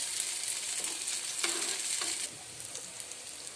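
Eggplant slices frying gently in a pan over low heat, a soft steady sizzle with a couple of light stirring scrapes, no voices.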